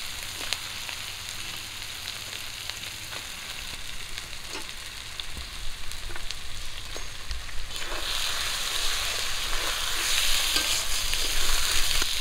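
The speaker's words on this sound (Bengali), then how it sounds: "এর মধ্যে মাছ দিয়ে দেবো ভেজে রাখা।" Fried pabda fish going into cumin spice paste already frying in a pan, giving a steady close sizzle and crackle with scattered stirring clicks that grows brighter and louder toward the end.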